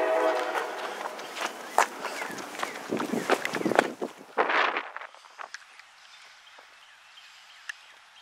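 A CSX freight train doing switching moves rumbles past near the tracks, with irregular clanks and bangs in the first half that fade into a quieter steady rumble by the end.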